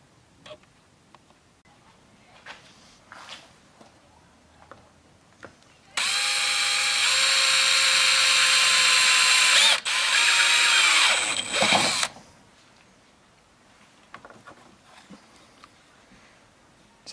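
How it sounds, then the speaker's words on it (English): A power drill bores holes into PVC pipe, a loud high whine running for about six seconds, briefly dipping as the bit catches, then stopping, with quiet handling clicks before and after. "here's my grid pattern that I'm going to drill out."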